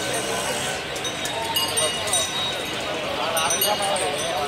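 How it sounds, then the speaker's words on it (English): Three horses walk along Sayyaji Road in Mysore during a Jamboo Savari rehearsal, their hoof clops faint and hard to pick out under a dense, steady roar of crowd and traffic, with people talking nearby. "See the horses."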